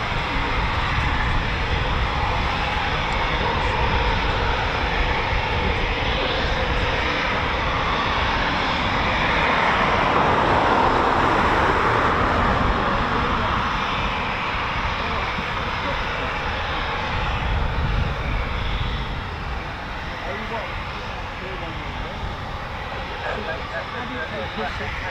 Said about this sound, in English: We have a Typhoon taxiing out as well.